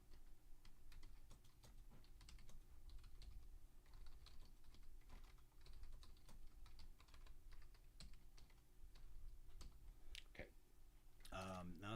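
Typing on a computer keyboard, quiet and close, with steady irregular key clicks throughout and a brief louder clatter at the very end.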